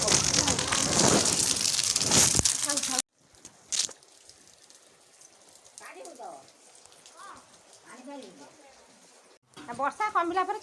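Heavy rain pours loudly for about three seconds and then stops abruptly, leaving a quieter stretch of soft background sounds and voices before a burst of activity near the end.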